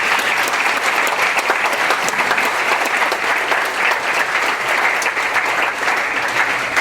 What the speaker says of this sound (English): let's have an applause for that Roadrunner family